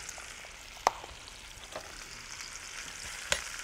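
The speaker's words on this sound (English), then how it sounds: "I love to cook the peppers and onions in the fat from the sausage." Peppers and onions fry in sausage fat in a pan, giving a steady close sizzle with a couple of sharp pops and faint stirring scrapes, no talking.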